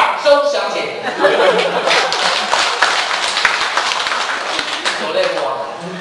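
Live audience at a xiangsheng crosstalk comedy show breaks into clapping mixed with chuckles and laughter, a steady crowd noise sustained for several seconds after a short burst of voice.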